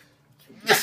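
A single sharp sneeze bursts out at the end, preceded by a quick intake of breath, close and loud.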